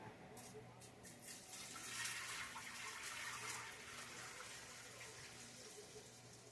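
Water running and splashing as it is poured into a pot for cooking beans and rice in a home kitchen, a soft continuous gush that swells in the middle and then settles, quiet and fairly close.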